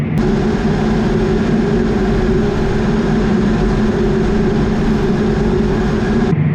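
A Versatile track tractor's engine drones steadily as heard from inside its suspended cab, a loud, constant low rumble that holds unbroken throughout with no talking.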